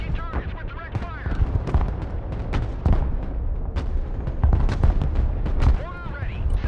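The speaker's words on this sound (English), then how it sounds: "Engaging targets with direct fire." Direct-fire gunfire in the combat video game Broken Arrow during a US mission, with loud bursts and sharp shots across the whole stretch over a dense, rumbling battle bed. Radio voices and shouted orders run under and between the shots.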